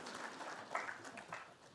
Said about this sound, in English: Let's round of applause for all the panelists.